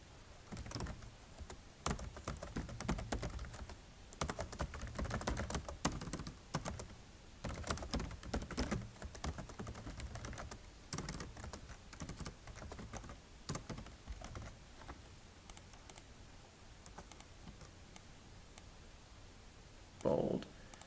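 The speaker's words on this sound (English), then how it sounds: "Well, you have to type it again." Someone types steadily on a computer keyboard, with quick, soft, close clicks and key taps running throughout beneath occasional talk.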